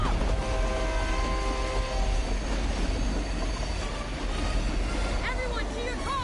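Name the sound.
speeding train passing on rails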